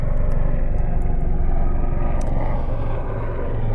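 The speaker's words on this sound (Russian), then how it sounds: "Сейчас пролетит этот вертолетик." A helicopter passes overhead outdoors, its steady loud rumbling drone filling the background continuously, with a few faint higher ticks layered on top.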